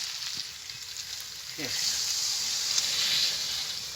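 Water poured into sautéed chicken, potatoes and masala in a pan sets off a sudden louder surge of sizzling and bubbling hiss that carries on steadily, close up, with a light clatter near the end.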